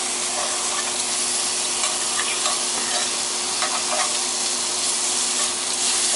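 Fajita steak and chicken frying on a hot cooking surface, a loud, steady, close sizzle with crackling and hissing that runs continuously, no voices over it.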